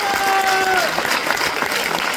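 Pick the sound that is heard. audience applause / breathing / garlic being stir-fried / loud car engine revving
audience applause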